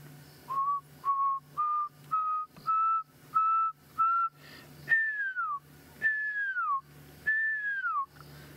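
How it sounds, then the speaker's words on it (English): A pearl-spotted owl calls at dusk on a Sabi Sand safari, a series of rising whistled notes in a steady rhythm followed by three longer, louder descending whistles, clear against a quiet background. "I can hear a pearl-spotted owl in the distance."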